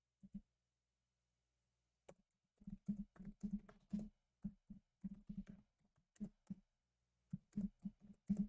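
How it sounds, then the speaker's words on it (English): Bursts of quick keystrokes on a computer keyboard, clicking close and clear in short irregular runs separated by silent pauses. "if you hear me typing"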